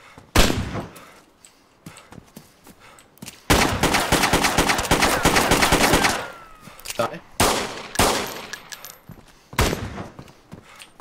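Gunfire in the survival game DayZ: loud, close single shots, then a long sustained automatic burst, followed by further scattered cracks, with people talking between the shots.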